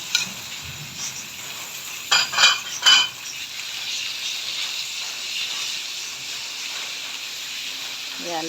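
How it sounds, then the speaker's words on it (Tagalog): Meat browning in a pan with onion and garlic, a steady soft sizzle running throughout, with a few louder scrapes and clinks of a utensil stirring near the start. "lutuin lang natin yung meat niya hanggang maging brown"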